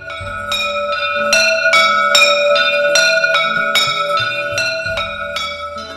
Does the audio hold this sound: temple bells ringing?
yes